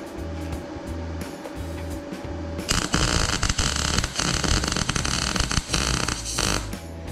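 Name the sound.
MIG welding steel horseshoe wine rack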